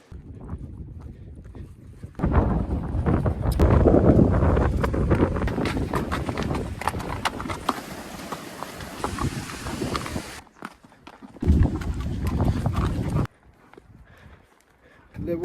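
Horses ridden through the mountains with hooves clip-clopping in a loose rhythm under heavy wind buffeting, close and loud, breaking off briefly and starting again, with people talking over parts of it.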